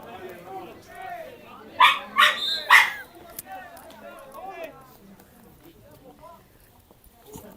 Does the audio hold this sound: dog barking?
yes